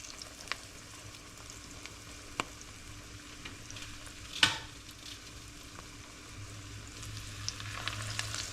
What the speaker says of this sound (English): just a little shallow fry